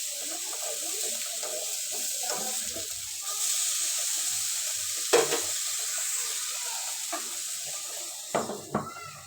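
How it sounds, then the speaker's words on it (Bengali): Eggplant frying in a pan gives a steady, fairly quiet high hiss that runs throughout, with a few sharper pops and knocks near the end and no voices. "তো ভাবলাম বেগুনটা ভাজা করে দেই।"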